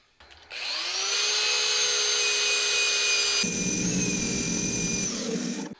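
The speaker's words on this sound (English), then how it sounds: "But let's see how it sands out." Sanding a turned piece of wood and resin on a spinning lathe, a loud, steady motor whine with a rough abrasive hiss that shifts partway through, then winds down near the end, close and without speech.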